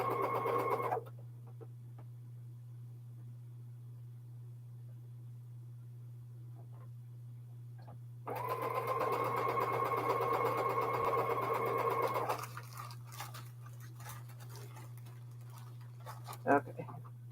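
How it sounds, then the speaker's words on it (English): Home sewing machine stitching red fabric scraps together, a steady mechanical whir in two runs, one brief at the start and a longer burst midway, with quiet handling noises and a constant low hum between. "This is a little bit different shade of red, so I will sew those together."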